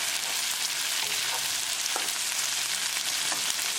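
Okra and sardines fry in a pan over a medium gas flame, giving a loud, steady sizzle and crackle that runs without a break and with no voices.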